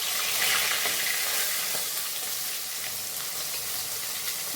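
Pieces of bhetki fish fry gently in a pan, giving a soft, continuous sizzle with a hissing, watery texture that holds fairly even and quiet throughout.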